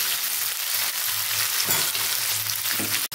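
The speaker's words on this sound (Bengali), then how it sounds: "এটা একদম হিট তেলে" Capsicum frying in very hot oil for street-style veg chowmein, a loud, steady close-up sizzle with soft stirring scrapes throughout and a sharp click near the end, no one speaking.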